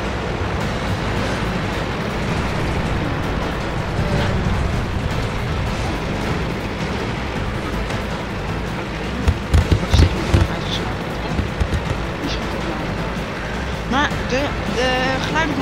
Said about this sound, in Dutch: De geluiden van de kanonnen zijn nu anders.